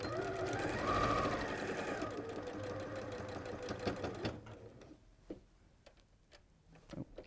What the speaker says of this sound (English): I'm just going to sew this one on